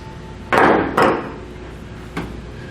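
Wire cutters snip the wires off the 4-pole plug of a Roadmaster 4-diode universal towed-vehicle wiring kit: two sharp, close cuts in quick succession, then a fainter third snip after a pause.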